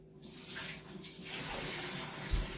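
Hot water poured out of a canning pot during applesauce canning, a steady close splashing and gurgling flow running for a couple of seconds with a small thump near the end.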